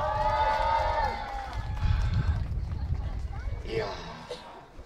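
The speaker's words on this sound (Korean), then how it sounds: "다시 한번 힘찬 박수 함성 부탁합니다." Crowd applause and cheering at an outdoor arts market talk with a K-pop group: a broad, loud roar of clapping and shouts that gradually thins out, with voices and a tonal sound over it.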